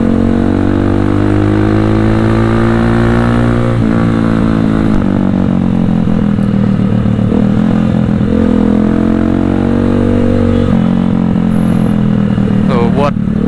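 A Viar Cross-X 200 SE trail motorcycle being ridden, its engine droning steadily and up close with rising and falling revs and a continuous mechanical rumble throughout.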